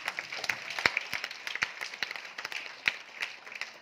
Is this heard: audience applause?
yes